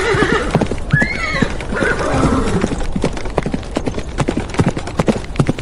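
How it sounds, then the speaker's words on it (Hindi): Horses whinny loudly and close by, then hooves clip-clop in a steady, uneven patter over rough ground in a Western frontier setting, with no voices heard. "घोड़े ला के दो मुझे, घोड़े, मजबूत घोड़े"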